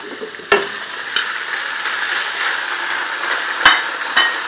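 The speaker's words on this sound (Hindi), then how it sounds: "गरम ये अदरक लहसुन ज़रा सा फ्राई करना है आपने, 2 मिनट फ्राई करना है" Ginger and garlic fry in hot oil for chicken korma, a steady loud sizzle with a few sharp scrapes and clinks of a spoon stirring against the pan, no voices.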